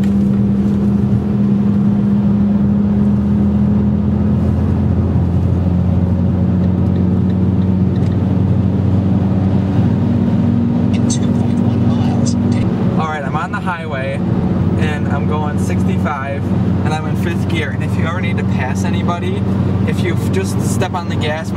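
A car with a five-speed manual transmission drones steadily at highway speed in fifth gear, a constant low engine hum under ongoing talk with road and wind noise.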